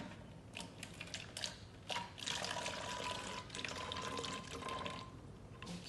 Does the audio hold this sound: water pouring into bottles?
yes